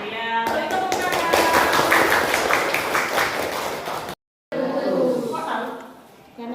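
A classroom group breaks into dense, loud applause that runs for several seconds, cuts off briefly, then resumes more loosely, mixed with voices.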